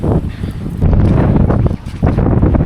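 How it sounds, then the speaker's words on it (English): Strong wind gusts buffet the microphone on a hot beach, a loud, rough, continuous roar that swells and dips in bursts. "So windy."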